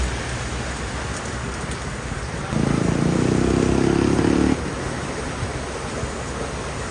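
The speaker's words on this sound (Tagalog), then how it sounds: "Ulan at hangin. Yan ang nakakatakot" Steady, dense typhoon rain hisses loudly throughout, with a heavier rumbling wind gust swelling in the middle for a couple of seconds before easing back.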